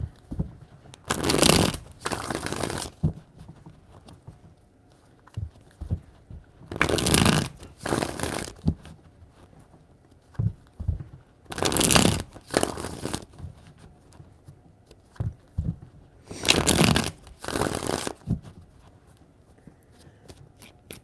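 A deck of tarot cards is shuffled by hand in four distinct bursts, each a loud, riffling flutter lasting about a second or two, separated by quieter pauses with light handling noise.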